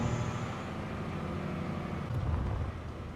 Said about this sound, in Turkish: Otobüsün sesi de böyle.